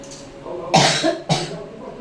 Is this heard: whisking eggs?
no